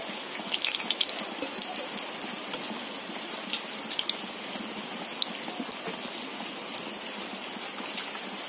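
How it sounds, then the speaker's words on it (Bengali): Heavy rain falling outdoors, a steady broad hiss with scattered patter and drips, heard from indoors during cooking, moderately faint and continuous without speech. "বৃষ্টির আওয়াজটা শুনেই বুঝতে পারছেন যে বাইরে প্রচুর পরিমাণে বৃষ্টি হচ্ছে"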